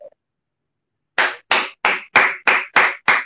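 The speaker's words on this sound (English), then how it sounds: "Joy Obaseki, clap for me" Seven slow, evenly spaced claps, loud and close, at a school appreciation event, following a short moment of near silence.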